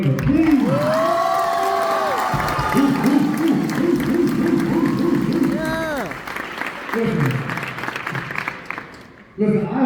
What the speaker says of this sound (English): please give a round of applause for Mr. Winter.